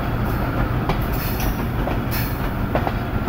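Jaffar Express passenger train rolling onto a loop line at a station, a loud steady rumble of wheels with clicking rail joints and brief high squeals, close by.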